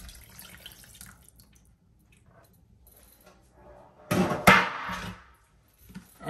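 Running tap water splashes briefly while a pan is rinsed in a kitchen sink, a short burst of flow after quiet handling sounds, fairly faint overall.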